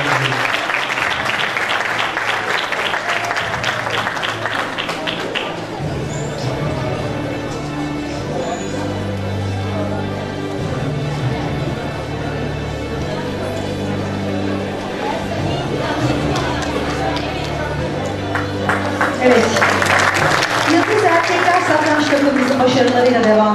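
Audience clapping at a Turkish award ceremony honoring achievers, sustained applause across the whole stretch, swelling louder near the end, with a low hum of crowd murmur beneath.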